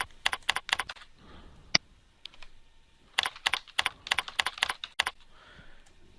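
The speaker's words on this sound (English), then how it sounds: "And then you simply type the message, beginning with the subject header." Quiet keystrokes on a computer keyboard while a message is typed, coming in two quick runs of light clicks separated by a short pause, with no talking.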